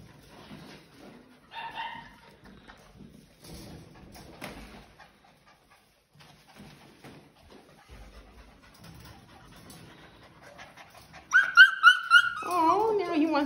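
Poodle and Eskipoo puppies whimpering indoors, with soft scattered whines and little yelps, then a louder burst of high-pitched barking and crying near the end, while people talk quietly nearby.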